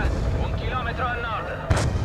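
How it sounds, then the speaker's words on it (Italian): Mortar fire in the video game Call of Duty: Black Ops 2 thuds amid steady low battlefield rumble and music, with one sharp impact near the end; a voice talks over the action. "I colpi di mortaio annunciano un attacco."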